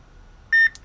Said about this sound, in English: First beep,